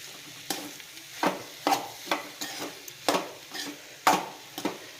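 Leftover cooked rice being mixed in a pan, a series of about ten soft, close scraping and stirring strokes at a loose irregular rhythm under a faint sizzle.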